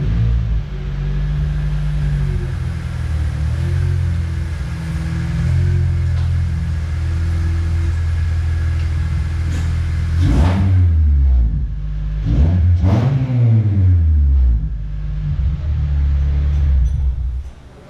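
A 2004 Acura TSX with a 3-inch Vibrant full exhaust idles with a loud, steady rumble, then is revved twice in quick succession, each rev rising and falling sharply before settling back to idle.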